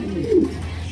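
A pair of Indian pigeons, sold as a male and female, give a single soft, low coo close by, brief and alone without other sounds.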